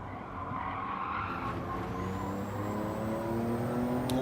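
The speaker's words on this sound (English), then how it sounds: "This is the trail braking experience in Gran Turismo." A race car in Gran Turismo brakes hard into a corner, its tires skidding and squealing over a steady, loud engine drone that runs the whole time.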